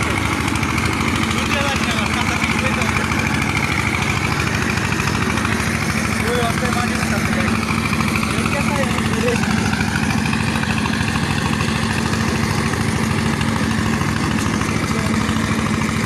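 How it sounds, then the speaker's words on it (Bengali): A sand dredging machine's engine runs loud and unbroken, a dense steady drone that lasts the whole stretch, with a voice speaking over it. "এটা হচ্ছে ডিজাইন মেশিন আর এই ডিজাইন মেশিন দিয়ে নিচে যে গভীরতা আছে সেখান থেকে বালি তোলা হয়"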